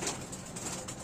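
Andhra Madrasi pigeons kept in a loft for sale coo in a short, soft burst close at hand, over a low, steady room hiss, with no voices.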